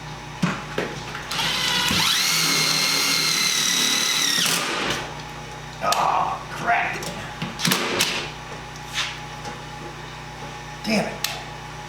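A power drill drives screws into a 3D-printed PETG project, with a loud sustained whine for a couple of seconds followed by shorter bursts and clunks of handling nearby; a voice speaks in between.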